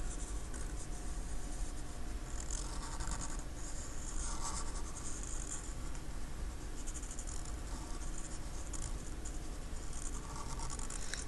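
A Sharpie marker traces over pencil lines on a mermaid drawing, giving a continuous close, scratchy squeak and rub of felt tip on paper that runs unbroken, with no talk.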